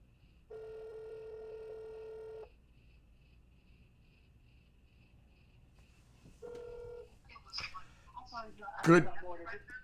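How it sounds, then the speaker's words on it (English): A telephone rings while a call is placed: two spells of ringback tone, a long one then a short one, with a steady background hum. A voice answers close up at the end. "I have to call the Rev"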